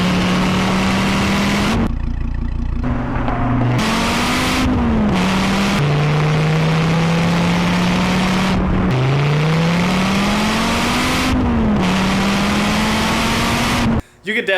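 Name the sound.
Dodge Viper manual sports car accelerating and revving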